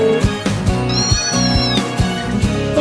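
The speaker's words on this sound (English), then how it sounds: "go to meow to everybody" A cat meows in the video game Amber's Airline - 7 Wonders, loud and clear over steady game music.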